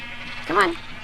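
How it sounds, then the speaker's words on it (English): A single short sheep bleat from a Minecraft-style video game, wavering and fairly close, heard against a low steady background hum. "And then you little sheep thing, you need to come up here."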